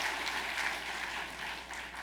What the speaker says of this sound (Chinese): 请咱鼓掌来